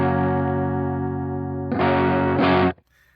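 Electric guitar through an amp at the edge of breakup: a sustained clean-ish chord rings, then harder strums push it into gritty, crunchy overdrive before cutting off, close and loud with no talking.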